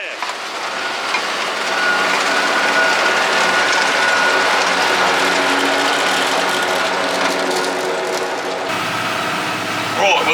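John Deere 7530 tractor with its Power Tech engine running a forage box picking up silage, a loud steady mechanical drone with ratcheting, clattering machinery, with a voice speaking over it.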